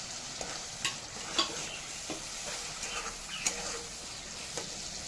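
Chopped tomato fries in spiced oil, a steady close sizzle broken by several sharp scrapes and taps as a spoon stirs the pan.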